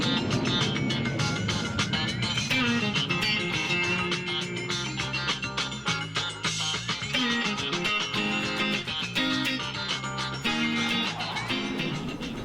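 Guitar strumming over a dense full-band backing track, with steady rhythmic chords blended into continuous loud music and no clear gaps.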